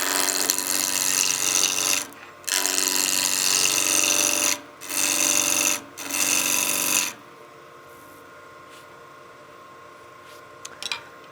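A spindle roughing gouge cuts the corners off a wooden gnome blank spinning on a wood lathe, giving a loud rasping scrape in several bursts with short gaps, then a quiet hum of the lathe running.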